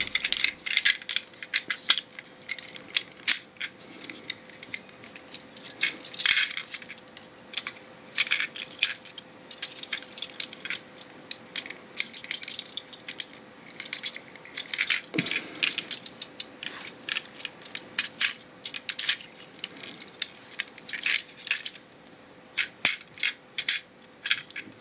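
A plastic G1 Transformers Menasor toy is twisted and folded, giving a long run of sharp close clicks, snaps and ratcheting rattles in irregular bursts, with no voices.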